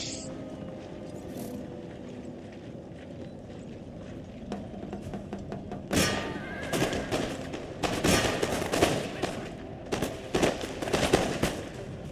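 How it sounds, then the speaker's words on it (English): Artillery and line infantry firing in Total War: Empire, starting with a few scattered pops, then breaking into dense crackling volleys of musket fire in the second half, loud and sustained. "our artillery is going to fire on that one over there, while our line infantry starts shooting at this armed citizenry"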